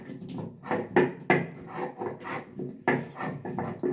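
Melon seeds, cashews and poppy seeds are rubbed dry by hand before grinding, giving a close, continuous gritty scraping with rhythmic strokes roughly every half second, fairly soft and with no talking.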